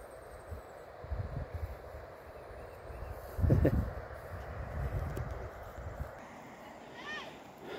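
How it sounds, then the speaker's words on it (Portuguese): Ox hooves clop in a loose, uneven rhythm on hard ground at moderate distance, with a louder cluster of steps midway and faint background noise. "Nossa, só escuta o barulho dos cascos dos bois."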